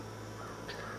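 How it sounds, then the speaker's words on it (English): Crows caw outdoors on a sunny, peaceful morning, a single harsh call standing out against steady background hum and faint ambient noise. "Birds sound amazing."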